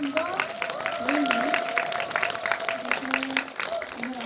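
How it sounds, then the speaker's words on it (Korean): An audience at a film Q&A screening event claps steadily to welcome the director and actors onto the stage, with continuous mid-distance applause beneath a voice speaking over a microphone. "여러분들 큰 박수 부탁드립니다"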